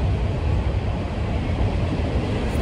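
A heavy, steady rumble of a CSX freight train with many coil cars rolling past nearby, continuous and loud throughout with no voices.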